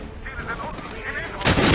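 Gunfire from a first-person shooter, Medal of Honor Warfighter, lands as a headshot: a sharp, loud burst near the end of a short stretch of busy game noise.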